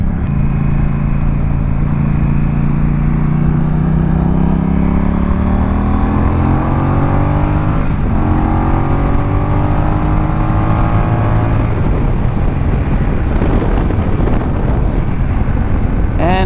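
A Honda Rebel 1100T motorcycle speeds up on a highway with a rising engine note buried in heavy wind rush, shifting through gears as it gains speed, loud and close throughout.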